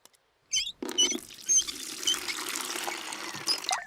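Cartoon water pouring into a bucket, a steady close splashing trickle that runs for a few seconds after a couple of short starts.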